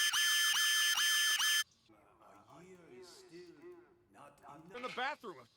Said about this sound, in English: The fucking smoke detector in the bathroom.